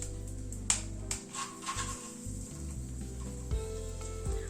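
Dried red chilli crackles in hot mustard oil as a tempering for a yogurt drumstick dish, a soft, steady sizzle with a few sharp pops and snaps near the start, low and close with no talking.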